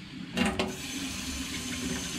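Cold water gushing from a boat's sink tap after a new water pump install, a sudden burst then a steady, strong close rush of running water.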